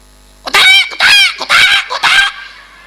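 A human voice imitates a rooster's crow in four loud, strained, harmonic bursts, each about half a second long with short gaps between them, heard alone with no other sound.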